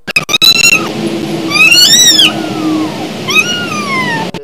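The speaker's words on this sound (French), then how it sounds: "un bruit de chaton" A kitten meows three times, high and plaintive, with short pauses between cries and faint clicks at the start.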